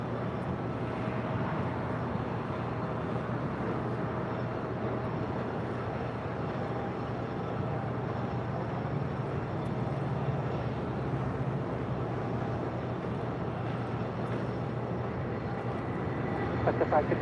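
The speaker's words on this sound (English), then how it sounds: "We have a special now rolling on 25 right. Star Alliance livery with United." A United airliner in Star Alliance livery rolls down runway 25 right at LAX, giving a steady, fairly faint, distant jet rumble that continues throughout, with people speaking over it.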